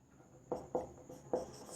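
A pen writes notes in a quiet room: a few short, soft scratching strokes in quick succession, close by and faint, with no talk.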